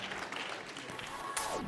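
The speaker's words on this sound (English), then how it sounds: "If you will join me in giving these oaks a really loud clap." Conference audience applauding a group being honoured, a steady dense wash of clapping filling the room throughout.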